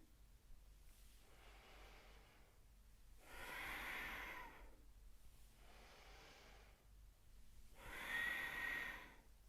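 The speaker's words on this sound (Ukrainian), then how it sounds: "вдих дихаємо носом" Slow breaths drawn in through the nose during a breathing and pelvic recovery exercise, heard close and soft as four airy inhalations spaced a couple of seconds apart, the second and fourth louder.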